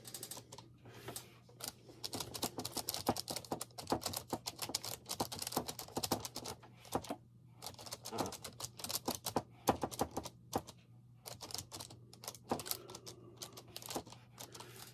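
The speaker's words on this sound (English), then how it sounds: "I'm typing you the email now." Rapid keyboard typing of an email, with dense clusters of sharp key clacks and brief pauses between bursts, close and steady throughout.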